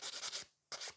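Quick back-and-forth strokes of a nail file rasp across acrylic nails in a rhythmic burst, a short pause, then another stroke, close up and fairly quiet with no voices.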